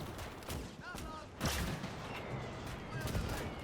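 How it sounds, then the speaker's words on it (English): Flak and mortar fire in the Gates of Hell battle game, dense overlapping booms and rapid bursts of gunfire throughout, with a sharp heavy blast early on, mostly distant but loud. "Flak's kicking off there on the right side though"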